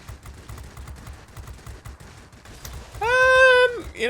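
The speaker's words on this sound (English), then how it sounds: "if a plane's going in a straight line, the cannons do the work" Aircraft cannons on a Ju 87 D-5 Stuka in the World of Warplanes video game fire in rapid, rattling bursts under an engine drone. Near the end, a sustained tonal whine swells loudly.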